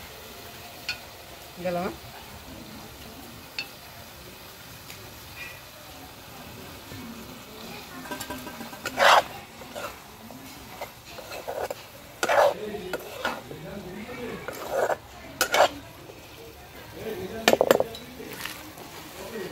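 Onions stirred in a pan for a chicken dish at a winter picnic, with soft frying sizzle throughout and scattered clinks of a utensil against the pan, alongside brief speech.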